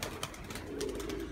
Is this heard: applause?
no